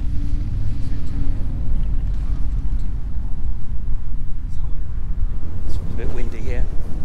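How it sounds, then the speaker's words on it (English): Low, blustery wind rumbles against the microphone throughout at The Sanctuary prehistoric site near Avebury, loud and continuous, with faint background sounds toward the end. "It's a bit windy here."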